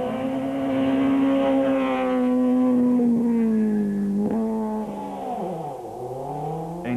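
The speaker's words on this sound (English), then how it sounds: "Damso and Paisley were still running with a more aggressive tyre choice and flying along" A rally car engine on a stage of the 2006 Rally of South Africa, revving hard and holding a high pitch, then dropping and shifting as it passes close by, loud with no voices.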